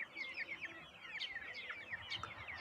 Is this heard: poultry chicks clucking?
yes